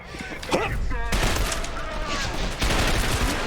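Video game gunfire in a continuous dense rattle of rapid shots filling the whole stretch, loud and close, with a brief pause before the volley resumes.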